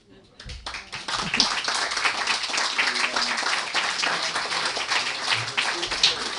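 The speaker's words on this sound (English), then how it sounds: "I just would like to hear another round of applause" Audience at a jazz event clapping, a sustained round of applause from a crowd with voices mixed in underneath.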